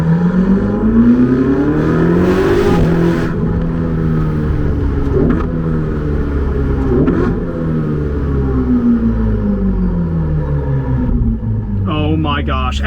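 Ferrari 488 GTB engine heard from inside the car while driving, a loud continuous rumble with rising and falling tones as it revs through gears, and a brief burst of speech near the end.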